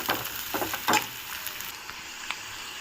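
Grated coconut sizzles and crackles steadily in a pan as it is fried, with a few sharper stirring scrapes and pops near the start, fairly close and moderate in level, with no voices.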